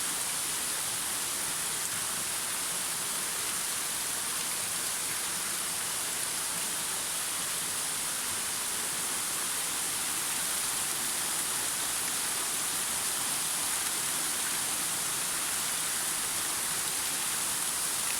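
The Ağlayan Kaya waterfall near Denizli pours with a steady, dense hiss of falling water that stays even and unbroken from start to finish, with no voices.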